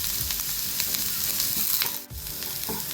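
Onions sautéed with salt in oil in a pan, a loud continuous sizzle and crackle with faint stirring, close and steady throughout.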